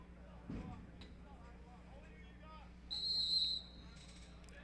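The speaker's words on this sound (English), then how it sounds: "Whistle blows" A referee's whistle sounds once at a lacrosse game, a single shrill blast of about a second, heard under crowd noise and talk.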